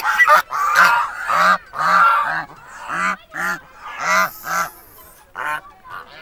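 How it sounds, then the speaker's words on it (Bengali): Geese roaming a resort ground honk in repeated loud, nasal calls, several overlapping in bursts with short pauses between, close by and unaccompanied by talk. "রিসোর্টের ভেতরে বেশ কিছু রাজহাঁস ঘোরাফেরা করছে"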